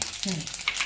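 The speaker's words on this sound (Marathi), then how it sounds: "राई मस्त तडतडली" Mustard seeds crackling in hot oil in a pan, a brief burst of quiet popping and sizzling with a few sharp spits.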